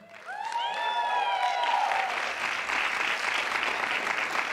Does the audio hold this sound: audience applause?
yes